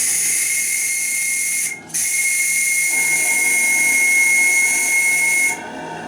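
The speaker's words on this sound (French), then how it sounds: "sifflet." A steam whistle on a steam launch shrills in a loud, sustained high tone, briefly interrupted once, then continuing until it stops near the end, close and alone.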